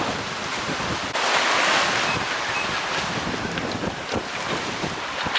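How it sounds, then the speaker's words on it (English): Choppy sea waves and strong wind heard aboard the sailboat Zephyr IV under jib alone in about 23 knots of apparent wind, a constant loud rush of wind on the microphone with water sloshing and slapping against the hull. "that's setting up quite a nasty little choppy sea. But we're ploughing through it."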